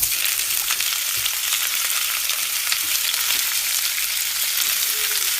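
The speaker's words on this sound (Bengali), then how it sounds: "তেল গরম করে ব্যাটারের মধ্যে চুবিয়ে" Battered vegetable pakoras of cauliflower, broccoli and capsicum fry in hot oil, giving a steady, close, dense crackling sizzle with no talk over it.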